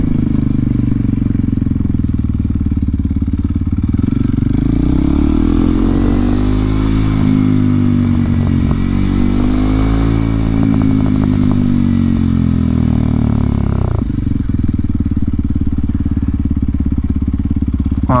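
A 2023 Kawasaki KLX 230SM motorcycle engine holds a steady, close drone, rising as the bike pulls away and revs through the middle, then dropping abruptly to a lower idle-like hum near the end.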